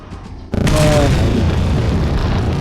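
A sudden heavy grenade boom in Resident Evil 4 hits after a short lull, followed by a sustained loud rumbling roar that fills the rest of the clip.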